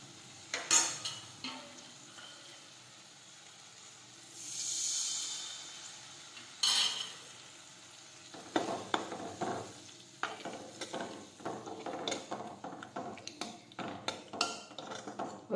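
Bhindi (okra) curry in a pan as buttermilk is poured in and stirred, a swell of sizzling hiss followed by scraping, clinking spoon-on-pan strokes at close range.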